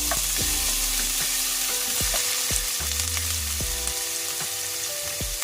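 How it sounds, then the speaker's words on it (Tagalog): Ginger sizzles in a small amount of hot oil in a pan, a dense continuous frying hiss with clinks of a utensil stirring now and then, close and fairly loud with no voices. "Unahin ko yung ginger guys."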